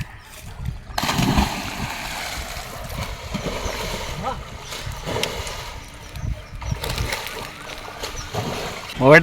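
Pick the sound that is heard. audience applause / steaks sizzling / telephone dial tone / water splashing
water splashing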